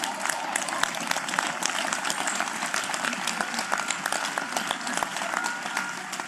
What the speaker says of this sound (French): C'est bien que vous applaudissiez.